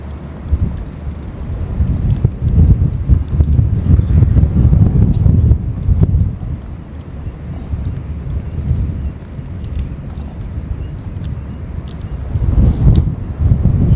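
Strong wind roars and buffets the microphone in loud, rumbling gusts that swell and ease throughout, with no talking.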